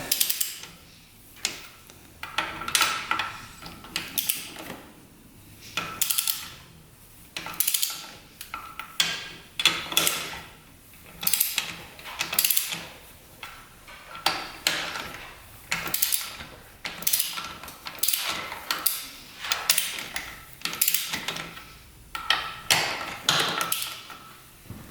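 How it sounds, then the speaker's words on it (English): A ratchet wrench loosens and removes bolts on a modified race quad, giving repeated close, sharp clicking runs in a steady back-and-forth rhythm throughout. "Now what we're going to do is loosen them up. So just completely take them out."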